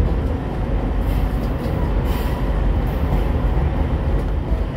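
A train rolls steadily over a viaduct in Surabaya, giving a loud, continuous rumble of wheels and carriages heard from on board, with no talk.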